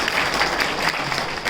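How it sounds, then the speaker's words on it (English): Loud, dense applause from a convention crowd at an anime game-show panel, steady clapping close by with a few cheers mixed in. "Let's give a huge round of applause for these three there."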